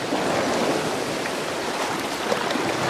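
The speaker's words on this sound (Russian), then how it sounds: "плещется вода" Water from Lake Garda in Italy sloshes and laps continuously at the shore of a campsite close by, a steady watery rush with a light breeze and no voices.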